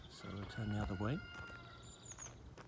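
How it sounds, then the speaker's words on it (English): A rooster crows on a farm beside cottages in a rural suburb, a clear rising and falling call in the middle distance, partly under a voice, with faint birdsong afterward. "the rooster calling"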